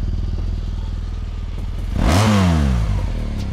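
A BMW R1200 GS Adventure motorcycle idles with a steady putter, then the throttle is twisted and the engine revs up sharply, its pitch climbing loud and close.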